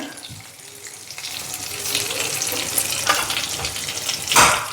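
Vada pav frying in hot oil, a steady broadband sizzle and crackle that holds throughout, with a brief louder burst of bubbling near the end.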